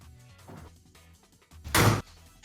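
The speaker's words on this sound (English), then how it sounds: "I told y'all you were gonna hear the door" A heavy door swings shut with one loud slam standing out sharply, preceded by quieter rustling and background murmur in a room during a Sonic Riders: Tournament Edition gaming tournament broadcast.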